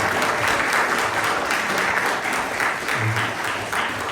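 A meeting crowd in Tennessee applauds a standing family, dense sustained clapping that fills the room for several seconds at steady loudness.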